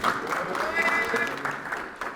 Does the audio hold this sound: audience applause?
yes